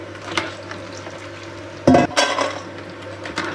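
Fried eggless chin chin being scooped out of a pan of hot oil, with a soft steady sizzle and a few metallic scrapes and clinks of a utensil against the pan, close and moderately loud.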